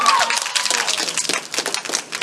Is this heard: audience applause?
yes